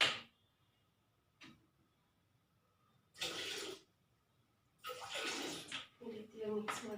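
Phenyl floor cleaner being mixed into water in a home: a few separate bursts of splashing and sloshing, close and moderately loud, with quiet gaps between them.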